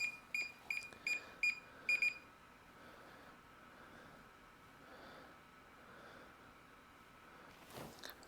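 A DJI Mavic Air 2 drone gives a series of short electronic pairing beeps in quick paired bursts, five groups in about two seconds, then quiet room noise.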